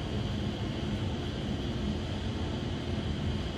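A glassworking torch running at about 3,000 degrees while borosilicate glass is shaped, giving a steady, close, broadband roar that holds unchanged throughout with no talk.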